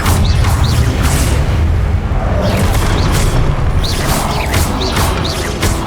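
Expelliarmus disarming spell cast in Hogwarts Legacy, heard as a sustained loud barrage of booming magical impacts and crashes with sweeping whooshes over dense battle ambience, no talk.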